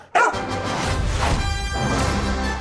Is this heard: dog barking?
yes